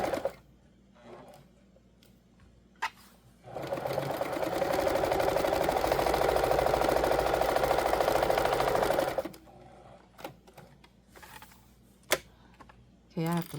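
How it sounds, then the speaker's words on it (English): A sewing machine stitches a small drawstring bag, running in one steady whirring burst of several seconds between quieter handling noises and faint speech. "I'm going to stitch about right here."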